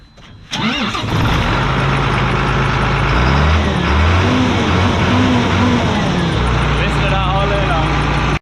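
A John Deere tractor engine on a farm rumbles loudly and steadily close to its exhaust, rising in a throaty rev after a sudden start near the beginning and holding strong throughout.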